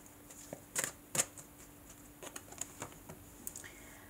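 Tarot cards are shuffled and drawn, with quiet, irregular flicks and sharp snaps of card stock, a couple of louder riffles near the start, then scattered light taps.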